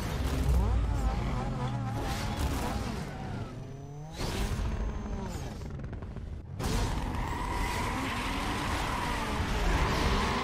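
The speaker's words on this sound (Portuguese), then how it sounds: "arrancada aqui, o carro já tá até patinando" A Ford Mustang in the Need for Speed Most Wanted video game launches hard with wheelspin, its loud racing engine revving through gear changes with squealing tires, with a brief drop in sound before it roars again.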